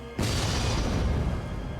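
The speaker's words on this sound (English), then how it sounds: "I love the gunshot that they use in that sound effect." Gunshot sound effect in the video game Nioh 3, a sudden loud boom that starts sharply and then rings out in a dense sustained roar to the end.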